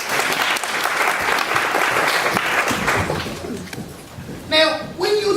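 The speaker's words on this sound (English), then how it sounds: "Big round of applause." Audience applause fills the room at a talk on primary curriculum design, a dense steady wash of clapping for about four seconds that thins out, followed by a few brief voiced sounds near the end.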